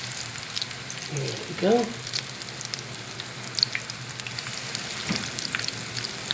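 Clam fritter batter dropped into hot oil in a 10-inch skillet, a steady near sizzle with bursts of bubbling as the batch goes in, while a voice speaks briefly over it.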